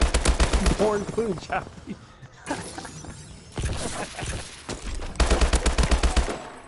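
Video game gunfire from a first-person shooter, rapid automatic bursts at the start and end with scattered shots between, loud and close, while a player talks over it.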